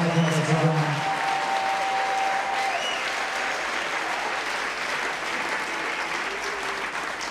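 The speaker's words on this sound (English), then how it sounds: "Give a clap to the living God." Church congregation applause: a long, steady wash of many hands clapping with crowd murmur, while a voice carries briefly over the start.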